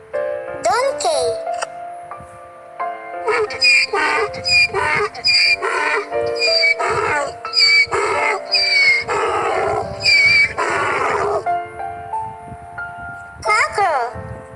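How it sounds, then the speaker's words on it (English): A donkey brays loudly and close by in a long, rhythmic run of alternating wheezy inhales and harsh exhales, with a few shorter calls before and after. "Donkey."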